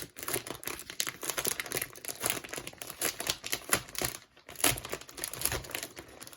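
Decoupage papers from a craft package rustle and crinkle close by, a steady run of crisp paper handling and rubbing with sharper crackles scattered throughout, without any talking.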